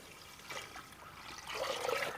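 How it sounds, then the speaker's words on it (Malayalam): Water poured from a measuring cup into a pressure cooker holding rice for chicken kabsa, a steady close splashing pour that grows louder and fuller toward the end, with no talking. "ഞാനിവിടെ വെള്ളം ഒഴിച്ച് കൊടുക്കുകയാണ്"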